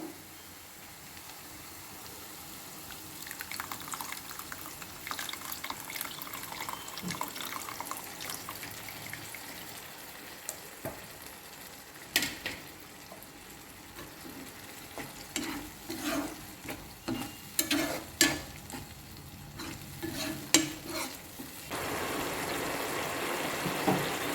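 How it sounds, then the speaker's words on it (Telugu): Soaked tamarind water being added to a frying pan for a vadiyala pulusu curry, with a steady sizzle, intermittent stirring scrapes and liquid splashing heard close up throughout, no talking. "ఇప్పుడు మనం ఆల్రెడీ చింతపండు నానబెట్టుకున్నాం కదా, ఆ పులుసు వేసుకుందాము."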